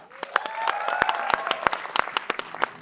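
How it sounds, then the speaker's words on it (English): Audience applause at the Miss Kohima pageant in Jotsoma, honouring the reigning queens; sparse, distinct nearby claps ring out over a sustained musical tone, with cheering underneath. "please give a huge round of applause to our reigning queens of Miss Kohima."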